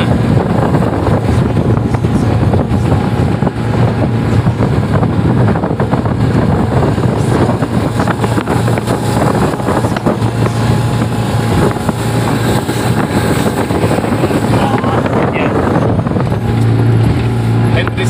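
A 40 hp speedboat runs along the Kapuas River, its outboard engine droning loud and steady for the whole stretch with wind buffeting the microphone and voices talking underneath.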